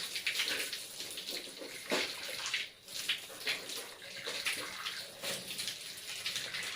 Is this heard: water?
yes